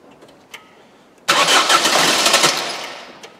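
A Ford Fiesta 1.4 TDCi diesel engine, F6JA type, catches abruptly after a quiet moment and roars into loud, close running that slowly settles.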